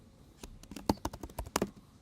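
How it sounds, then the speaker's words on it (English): Typing on a computer keyboard: a quick irregular run of crisp, close key clicks over two seconds, with a few louder strikes standing out and no voices. "I'm typing it up right now."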